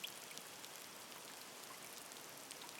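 A distant waterfall echoes through a vast cave, heard as a steady, soft wash of falling water with faint scattered droplets, continuous and quiet with no voices.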